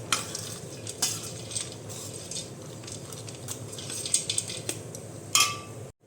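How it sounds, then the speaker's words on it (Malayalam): Ghee with roasted cashews and raisins being stirred in a pan for Kerala ladoo, a soft continuous scraping and faint sizzle with occasional light metallic clinks of the spoon against the pan. "ഇതും കൂടെ ഒന്ന് മിക്സ് ചെയ്ത് കൊടുക്കാം."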